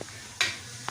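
Potatoes frying in a pan in a home kitchen give a brief, loud hissing sizzle that swells suddenly and then fades into a low background.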